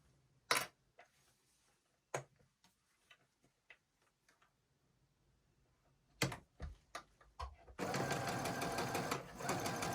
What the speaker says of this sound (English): we're going to just sew that straight down.